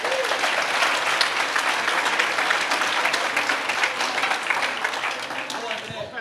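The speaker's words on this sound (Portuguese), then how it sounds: "Você pode dar uma salva de palmas para a Margarete?" A church audience applauds steadily, dense clapping filling the room at an even level for several seconds.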